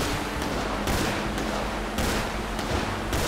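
Gunfire rattles in the video game GTA 5, a dense run of loud shots cracking in quick bursts over several seconds, heard alone with no talking.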